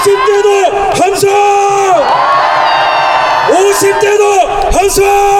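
Thousands of rally-goers at an outdoor plaza in Daegu bellow a loud collective cheer on command, a dense roar of voices lasting a few seconds between bursts of a man's amplified speech.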